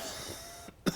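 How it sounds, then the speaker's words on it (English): During a tabletop role-playing game session, one person gives a single short, fairly quiet cough, closing a stretch of soft room sound. "I just coughed"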